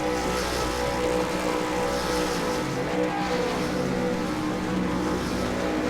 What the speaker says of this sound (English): but the revs are starting to build.